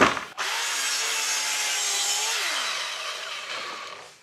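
A power tool cuts a 5-degree angle into wood for a cajon bongo set, a steady loud whine that starts abruptly after a brief knock, holds for about two seconds, then drops in pitch and fades as the cut finishes.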